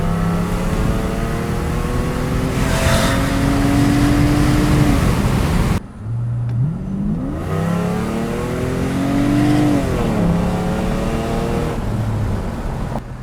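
A 1999 Mercedes S600 with a new, loud exhaust revs hard and pulls through rising gears, then drops briefly and climbs again into another strong acceleration, close and sustained with no talking.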